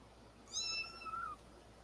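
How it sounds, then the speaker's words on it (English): A calico cat's litter of kittens gives a single thin, high meow, faint and close, in a quiet indoor room with no talking. "I came home and Daisy had her kittens out"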